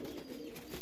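A jelly-eyed pigeon in a home loft gives a soft, low coo, faint and brief, against quiet background hiss.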